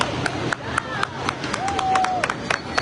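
A small group of people clapping for first responders at an EMS medical call, a few brisk separate claps outdoors with murmuring voices and background noise.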